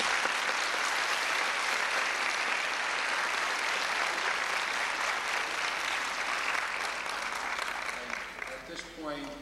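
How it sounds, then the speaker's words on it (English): Audience applause for a band at a naturalization ceremony in a school hall, a sustained roomy wash of clapping that thins toward the end as a voice begins to speak. "So why don't we give them a round of applause."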